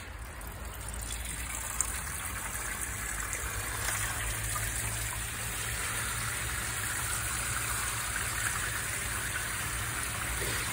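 Water gushing steadily into a fish tank, a loud continuous rushing fill with no break, alone without talk.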